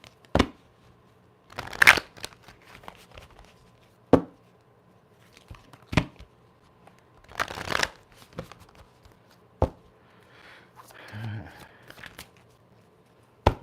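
A deck of cards shuffled by hand in a quiet room, with several separate riffles and brisk bursts spaced apart by sharp taps, close and fairly loud, with some faint speech in between.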